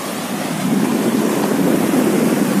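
A huge ship lying at anchor in the sea off the shore, heard as a loud, steady wash of surf and wind-blown water noise with a low rumbling undertone, no voices.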